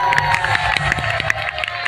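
Audience clapping and cheering at a jatra comedy stage show, a dense burst of claps with shouts and whistles from the crowd, lively and continuous across the short span.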